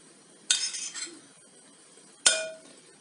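A spoon clinks twice against dishes while soufflé batter is portioned into buttered ramekins, two sharp close metallic taps about two seconds apart with quiet between them.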